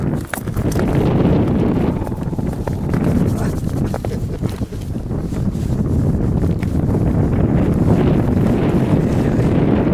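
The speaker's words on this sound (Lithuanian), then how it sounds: "Čia vėjas turbūt, ne?" Strong wind buffets the microphone in a constant loud rush, with gusty rumbling throughout and no clear voices.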